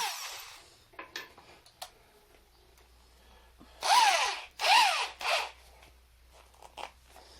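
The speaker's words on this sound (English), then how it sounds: "Now we're going to take our handy dandy drill here." A handheld electric drill used for DIY shelf building gives a few short, rising-and-falling whirring bursts, with scattered clicks and handling noises between them and no talking.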